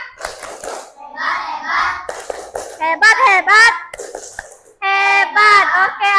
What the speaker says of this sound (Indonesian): Kita kasih tepuk hebat untuk teman-teman kita.